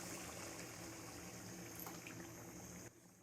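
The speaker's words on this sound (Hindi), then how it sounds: "अब हम इसमें पानी ऐड करेंगे।" Water poured into a pot of browned chicken korma, a steady liquid splash and sizzle running continuously before dropping off near the end.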